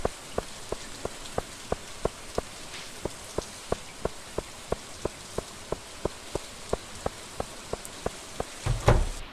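Steady rain hiss in the video game Stardew Valley, with evenly spaced ticking drips, then a brief low rumble near the end.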